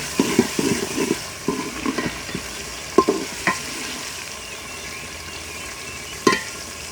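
Crushed garlic sizzling and frying in a pan for aloo matar salan, with steady hiss broken by several sharp stirring clinks and scrapes; no talking.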